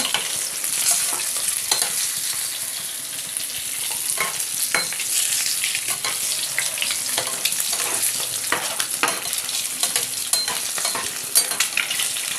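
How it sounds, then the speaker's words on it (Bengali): An egg fries in a pan with a steady, close sizzle, broken by scraping and stirring clicks throughout, and no talk. "ডিমটাকে ভাজা করে নিতে হবে, ভালো ভালো লাল করে ডিমটাকে ভেজে নিতে হবে। ডিম ভাজা চলছে।"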